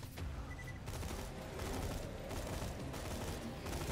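Rapid gunfire in the video game Borderlands 2, a dense, continuous volley of shots with scattered sharper bursts, steady and moderately loud throughout with no talk.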